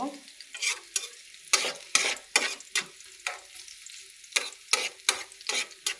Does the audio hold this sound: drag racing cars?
no